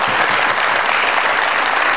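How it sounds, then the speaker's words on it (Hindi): A TV comedy show's studio audience claps for Aisam Ul Haq, a loud, dense and steady burst of applause with no voices over it. "बहुत सारी तालियां एहसामुल हक साहब के लिए जी।"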